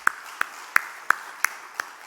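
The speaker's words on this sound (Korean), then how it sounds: "박수 한번 해줍시다." Church congregation members clap for a choir in a slow, evenly spaced rhythm, six distinct sharp claps ringing out clearly over a quiet room.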